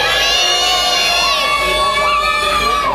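A crowd of schoolchildren at a drawing prize ceremony in Antibes shouts together, a loud, sustained high-pitched roar of many young voices filling the hall.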